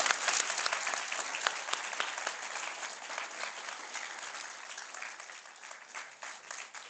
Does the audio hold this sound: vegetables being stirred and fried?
no